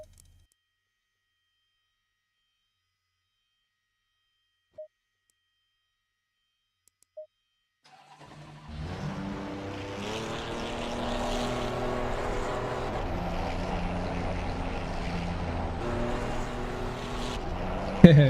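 Ferrari 296 engine in the video game Assetto Corsa Competizione at Monza, near silence and a couple of faint clicks, then the engine starts and drones steadily and loudly, rising slightly.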